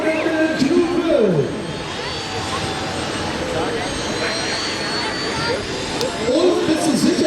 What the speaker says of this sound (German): Der Turbinenträger, 4 russische Kampfhubschrauber-Turbinen, 8000 Wettkampf-PS, der stärkste Traktor diesem Wochenende in Knutwil.